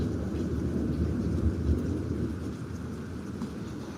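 Thunder from an intense lightning storm, a continuous low rumble that swells and fades, loud and dense with rain-like hiss and no voices.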